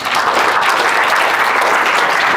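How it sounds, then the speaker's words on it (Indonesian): Brief, dense burst of audience applause at a business talk about a Bali souvenir retailer, steady clapping with nothing else over it. "Tepuk tangan buat anak-anak saya."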